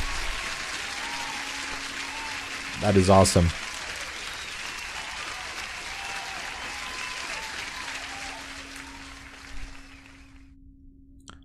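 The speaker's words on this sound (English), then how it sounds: "One more applause to Michael." Applause breaks out on a live day-trading stream, with a short loud burst of clapping early on and softer claps later, while someone talks over it.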